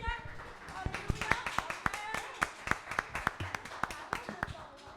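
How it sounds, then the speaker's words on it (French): A church congregation claps in distinct, fairly regular beats, with individual hand claps standing out rather than merging into a continuous roar. The clapping carries on for several seconds with voices in the background. "On peut applaudir."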